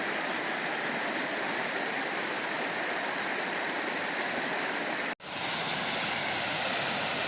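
A river pours along in a continuous, full roar of rushing water, unbroken except for a split-second dropout near the end, with no voices.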